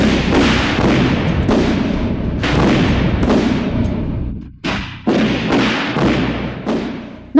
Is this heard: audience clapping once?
no